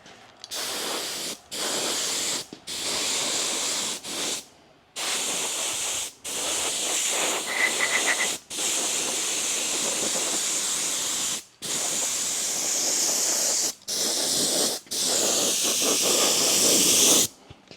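Metallic paint sprays onto a 14-liter Detroit 60 Series diesel engine in a Kenworth K100E truck. Loud, close hissing comes in a dozen or so bursts of a few seconds each, separated by brief silent pauses, with one long spray near the middle.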